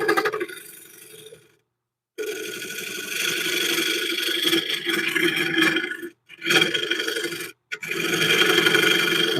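A wood-turning tool cuts into a spinning piece on a lathe, a rough scraping rasp over the motor hum, broken by several short gaps where the tool lifts off.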